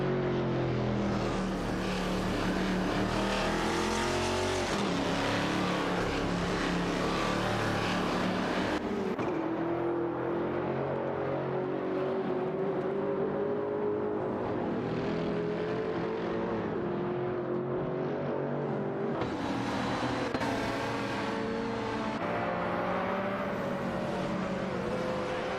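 Race car engines of a BMW M512 and a McLaren F1 in a racing video game roar continuously and loudly, with pitch rising and falling as the cars shift and accelerate, and no talking.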